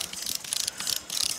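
A Strainex wire strainer ratchets to tighten fence wire, giving quick bursts of close, bright metallic clicks in uneven rhythm.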